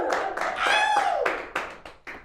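A few hands clap in a small, uneven round of applause in a studio setting, individual claps distinct and close, tapering off after a couple of seconds.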